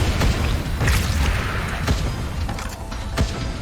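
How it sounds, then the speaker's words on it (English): Rocket launcher blasts in Wall World, several deep booming explosions with sharp thuds landing at irregular intervals over a constant low mechanical rumble, no voices. "we are completely relying on rocket launcher the whole time"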